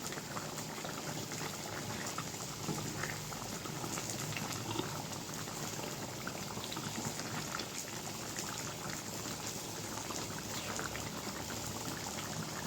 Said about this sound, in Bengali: মাংস সিদ্ধ হয়ে গেছে